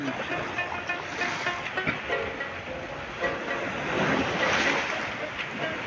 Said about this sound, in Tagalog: Malakas po ang dagat, maalon dahil mayroon po papasok na bagyo.